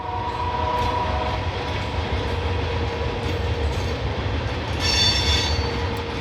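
A GE GEVO-led freight train with an unpatched BN caboose passing on the Fort Worth Sub, a loud steady rumble of cars and wheels with a tonal hum and a brief metallic squeal near the end.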